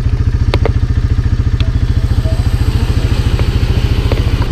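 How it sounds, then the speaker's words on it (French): A tractor-mounted fertiliser spreader disc spins steadily as slug pellets drop onto it for protecting a rapeseed crop, a loud rapid engine-like pulsing throughout with a few sharp clicks and ticks of pellets scattered over it. "j'ai besoin d'entendre le disque qui tourne et les granulés qui tombent dedans"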